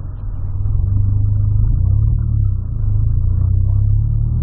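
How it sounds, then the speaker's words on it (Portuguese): A lowered VW Polo rolls slowly over a big pothole, its engine giving a steady, loud, low rumble close by with no other sounds. "Buracão aqui, velho. Passar devagarzinho,"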